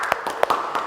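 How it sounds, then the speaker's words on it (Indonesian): Brief, sparse clapping at a classroom session, a few separate sharp claps over under a second. "Tepuk tangan Bapak Ibu."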